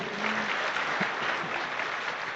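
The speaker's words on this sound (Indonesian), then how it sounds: "tepuk tangan buat Tiansi." Audience applause at a business seminar, many people clapping in a steady dense patter throughout, with a brief faint voice near the start.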